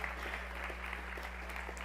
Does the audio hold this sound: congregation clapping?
yes